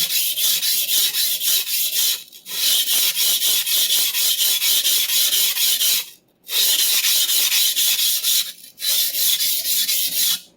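A Clyde Cutlery chef knife drawn across a sharpening stone in long, loud, continuous rasping strokes, with a few brief pauses between passes and no talk.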